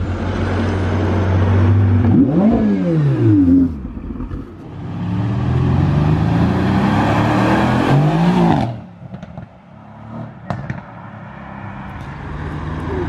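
A convoy including a Bugatti Chiron pulls away at Juan-les-Pins: loud engine revs climb and sweep past up close, followed by further passing roars, then a quieter stretch with scattered clicks and distant traffic.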